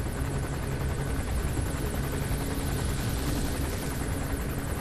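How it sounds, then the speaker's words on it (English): Helicopter approaching in the video game Metal Gear Solid 5, a dense, continuous rotor roar with rapid blade chop that fills the scene steadily and loudly. "And the chopper's about to come back."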